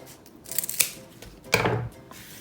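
Scissors snip through the bottom of a folded banana leaf in two crisp cuts. Each cut is a close, sharp crunching slice with quiet pauses between them.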